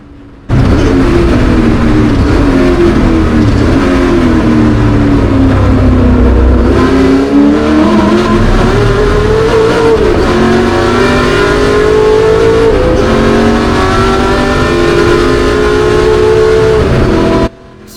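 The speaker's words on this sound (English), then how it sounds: "you watch drivers blip the throttle on every single down change in a historic car" A Ford GT40 historic race car engine roars close by for the whole stretch at the Le Mans Classic, its pitch dipping and climbing with throttle blips on downshifts, with no talking.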